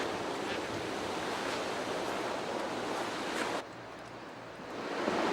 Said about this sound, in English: It's nice to have the sound of the water flowing when you're climbing.